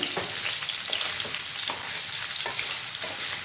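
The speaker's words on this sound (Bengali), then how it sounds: "সয়াবিনগুলো ভালো করে ভেজে নেবো।" Soya chunks fry in oil in a pan for soya chilli, a loud, dense crackling sizzle with a few spatula scrapes turning them over.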